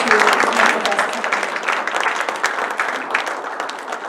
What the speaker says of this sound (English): Let's give them a warm round of applause for being here